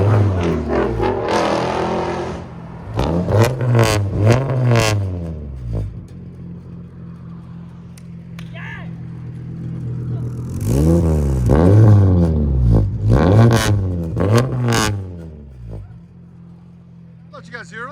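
A loud straight-piped 1994 Volvo 850 Turbo engine revs hard in two bursts, rising and falling sharply, with a gap of idling rumble between and some talking mixed in.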